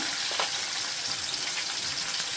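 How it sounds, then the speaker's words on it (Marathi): Cumin seeds and plenty of green chilies hit hot oil with browned garlic, giving a dense, close, steady sizzle and hiss with a few small pops, with no voices. "जिरं लसूण चांगलं लालू होती तिथे जिरं टाकलं आणि मिरची भरपूर अशी मिरची घालून"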